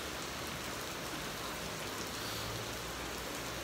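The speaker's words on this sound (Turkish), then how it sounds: "Yani şemsiye aldık yanınızda ama aşırı derecede hızlı yağıyor." Heavy rain pours down hard and fast outdoors as a dense, constant hiss that fills the whole clip at an even loudness, with no voices.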